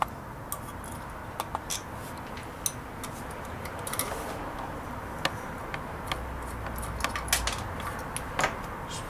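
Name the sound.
removing screws from VW Bug speedometer gauge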